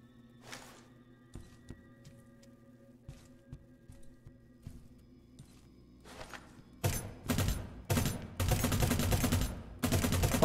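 Full-auto fire from a Space Bolt AK in a video game. After several seconds of quiet ambient hum with faint clicks, loud bursts of rapid gunfire erupt, short volleys first and then longer sustained streams, close and punchy.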